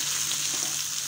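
Onions frying in a pan for a mushroom masala gravy, a steady close hiss and sizzle with no voices.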